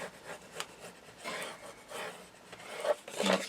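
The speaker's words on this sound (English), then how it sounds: "if you fold them down like so, okay, and again burnish" A tool burnishes folded score lines on leather for a double-sided folio with short, soft rubbing strokes. The strokes come in a quiet, uneven rhythm, close up, with no talking.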